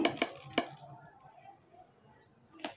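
A spoon clicks against a bowl while chatpoti ingredients are stirred together: beet salt, chili flakes, chatpoti masala, chopped green chili, sugar and tamarind. Three sharp, quiet knocks come near the start and end, with a soft rustle between them.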